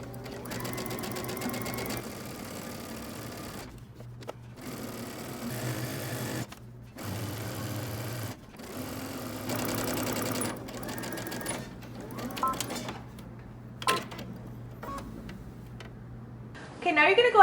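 A sewing machine stitches a second elastic casing on shorts, running in repeated bursts of fast, steady whirring separated by short pauses, with a voice heard at times.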